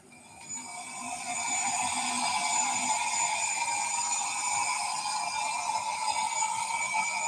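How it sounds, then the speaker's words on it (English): A gas turbine locomotive engine gives a steady high-pitched turbine whine with several sustained tones that builds up and holds over a low rumble, continuous with no talking. "here is the sound of the gas turbine."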